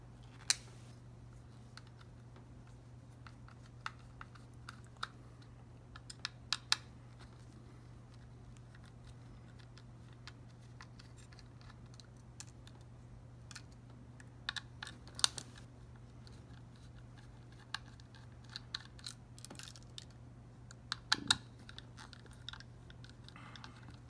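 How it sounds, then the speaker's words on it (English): Small Torx screws are removed from an Xbox One S hard drive enclosure with scattered faint clicks and ticks of the driver over a steady low hum, with no talk. "to get the hard drive out of its enclosure, we're going to remove the Torx screws"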